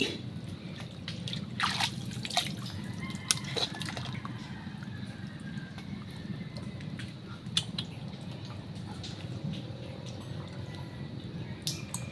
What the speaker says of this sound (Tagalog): Nagpapump na yung tubig.